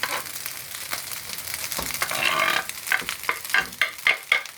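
Egg fried rice with small-cut prawns being stir-fried in a hot pan, a steady sizzle with scraping and tossing strokes that grow into sharp, rhythmic clatters toward the end, close and loud with no talking.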